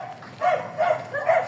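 Three quick yappy dog barks follow one another rapidly, close and fairly loud, with a soft whine at the start.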